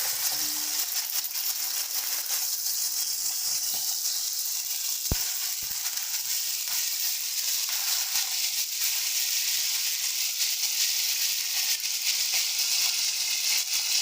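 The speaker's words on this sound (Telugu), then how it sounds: "ఇప్పుడు వీటిని నేను ఫ్రై చేసుకుంటున్నాను" Brinjals frying in a pan, a steady close sizzle and hiss with one or two brief clinks partway through, no voices.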